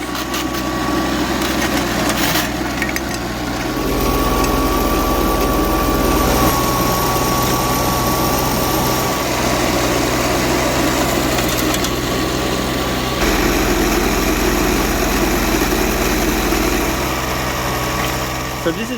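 A dry blower machine runs on gold field pay dirt with a loud, steady engine drone and rattling hum throughout, its level shifting slightly as it keeps going.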